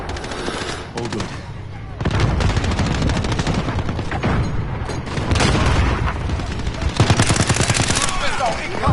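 Rapid automatic gunfire and heavy blasts from an online Call of Duty Modern Warfare match rattle in loud dense bursts, with booming impacts and game voice callouts mixed in.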